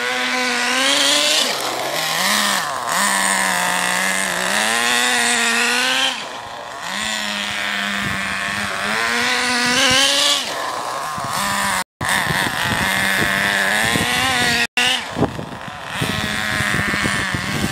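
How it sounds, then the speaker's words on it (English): A nitro RC engine breaking in at full throttle screams loudly and continuously, its high whine rising and falling as the car makes straight runs and slows for corners. "for tank 5, you do full throttle straight runs"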